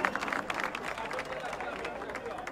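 A crowd at a rally in defence of Petrobras claps steadily for striking oil workers, a dense, continuous patter of applause mixed with scattered voices, moderately distant.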